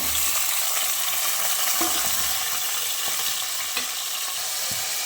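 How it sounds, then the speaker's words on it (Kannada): Chicken pieces frying in a few spoons of hot oil in a pan sizzle steadily and close by, with occasional stirring scrapes and clinks throughout. "ಚಿಕನ್ ಒಂದು ಎರಡು ನಿಮಿಷ ಎಣ್ಣೆಲಿ ಫ್ರೈ ಮಾಡ್ಕೋಬೇಕು"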